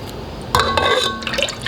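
Coconut milk pours into a deep pot in a home kitchen, a close, steady liquid glug and splash that starts about a third of the way in and carries on to the end, with faint dripping before it and no talking.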